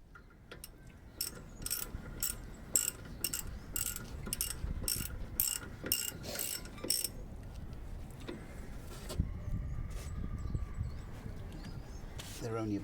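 A ratchet wrench tightens bolts on a Land Rover Discovery 2 wheel hub: a quick, regular series of sharp clicking ratchet strokes close by, followed by quieter handling noises and a few scattered clicks.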